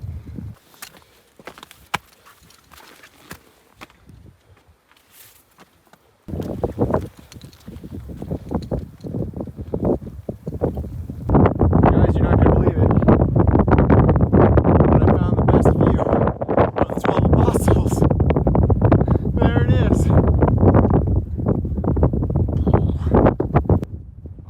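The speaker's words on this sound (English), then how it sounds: "you guys probably can't hear me because it's super windy" Strong wind on Table Mountain buffets the microphone in heavy gusts, growing louder and rumbling constantly, with a person talking faintly underneath.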